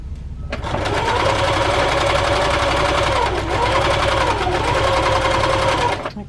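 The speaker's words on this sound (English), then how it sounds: "I'm going to lift this over, line it up, and continue to sew" A sewing machine running steadily for about six seconds while chain piecing quilt pieces, a close, even mechanical whir with a fast stitching rhythm that starts and stops abruptly.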